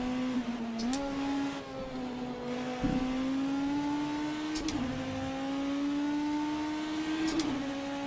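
A race car engine in the rFactor 2 sim racing game at Sebring holds high, near-maximum revs in a sustained whine, with brief dips at gear changes, loud and alone with no talking.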